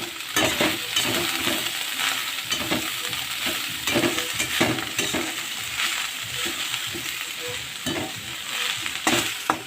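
Greens stirred and frying in a hot pan with potato and onion, a steady loud sizzle with repeated scraping stir strokes throughout, no talking.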